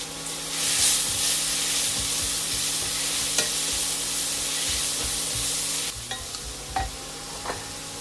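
Carrots sautéing in a pan with whole spices such as cardamom and cloves: a continuous loud sizzle with occasional spoon scrapes, quieting toward the end with a few light clicks.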